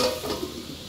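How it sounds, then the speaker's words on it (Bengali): Sliced onions frying in a covered pan for a home-style mutton curry, with a steady close sizzle and soft scraping of a spatula stirring them, brief and without talk. "তো দেখতে পাচ্ছ তোমরা পেঁয়াজটা খুব সুন্দর ভাজা হয়ে আসছে"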